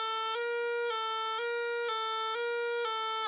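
A bagpipe practice chanter drone keeps sounding as its pitch steps up and down between two notes several times as the top-hand thumb lifts off and back on, steady and close.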